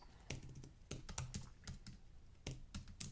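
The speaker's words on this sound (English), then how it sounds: "I'm going to start typing some content in here" Computer keyboard being typed on, close and dry: irregular bursts of crisp key clicks with short pauses between, alone in a quiet room.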